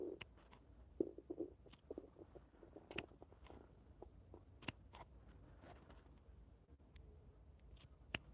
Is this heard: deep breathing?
no